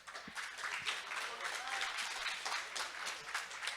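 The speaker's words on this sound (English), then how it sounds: "Can we please give them a big round of applause?" Hands clap steadily from a demo day audience, a moderately faint but continuous round of applause with scattered distinct claps and a murmur of crowd noise underneath.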